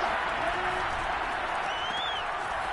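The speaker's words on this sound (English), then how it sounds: "The crowd getting into it as we come up on a big third down." A large football stadium crowd roars steadily at a Jaguars playoff game ahead of a big third down, a dense, sustained wash of cheering and clapping that stays loud and even throughout.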